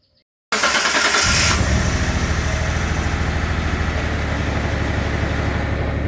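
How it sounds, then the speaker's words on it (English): A 1993 Mitsubishi 3000GT SL, recently suffering a crank-no-start fault, cranks briefly and catches, then settles into a loud, steady idle close by. "I just put the original ECU back in the vehicle. Now let me go ahead and start it."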